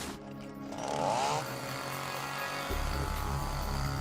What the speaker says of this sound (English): By the 1950s, the labor-intensive crosscut saw was replaced by the gas-powered chainsaw.